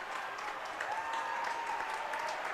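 A crowd at a Sunday afternoon basketball game in Assembly Hall applauds steadily, a dense wash of clapping with a faint whistle, heard at moderate distance without speech.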